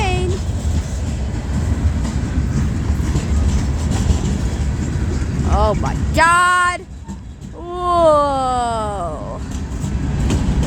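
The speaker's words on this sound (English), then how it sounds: "Silly train" A train rolls through the Struthers crossing with steady loud rumble and rail noise throughout, a horn sounding in two long harmonic blasts near the end, while people exclaim over it.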